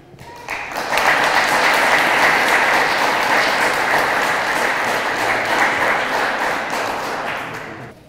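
A police ceremony audience breaks into steady, dense applause that swells within the first second, holds evenly for several seconds, and tapers at the close.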